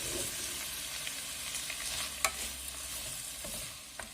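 Mutton liver sautés in a pan with a soft, steady sizzle, punctuated by a few light clicks of stirring, quiet and close with no talking.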